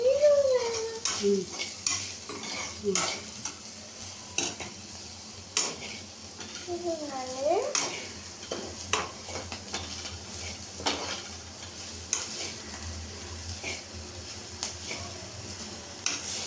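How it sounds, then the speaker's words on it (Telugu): Spiced food is stirred in a frying pan on a gas stove, with a utensil clinking and scraping against the pan over a soft sizzle; brief tonal sounds and faint voices occur in the background. "బాగా మిక్స్ చేయాలండి. నేను కలుపుతాను."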